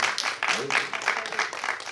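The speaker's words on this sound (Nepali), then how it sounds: "एकपल्ट उहाँका हिट गीतको लागि ताली बजाइदिनु" An audience at a film title-song launch applauds a singer's hit songs, a dense burst of clapping that runs throughout with a voice talking over it.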